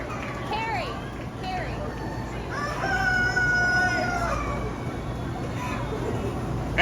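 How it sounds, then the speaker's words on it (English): Several roosters crow one after another at a rooster crowing contest, some close and some farther off, over a steady murmur of background chatter and noise. "And our rooster crowing champion goes to Mr. Austin Jacobs and Batman."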